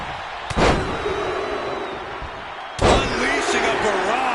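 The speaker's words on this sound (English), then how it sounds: "Unleashing a barrage on their opponent. Sent hard into the corner." Two heavy slams ring out as a wrestler is driven into the corner during a tag match in WWE 2K26, each a loud thud about two seconds apart over crowd noise and commentary.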